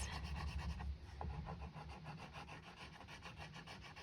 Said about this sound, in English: even though it sounds like I'm coloring fast